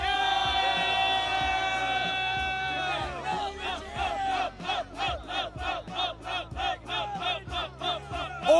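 A large WWE Raw arena crowd roars with a sustained mass yell, then breaks into a loud rhythmic chant of evenly pulsing shouts.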